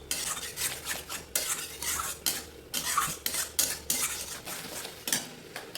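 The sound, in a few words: stirring pointed gourd mash in pan on medium flame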